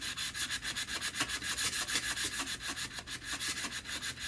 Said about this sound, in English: And I'll do some final sanding here.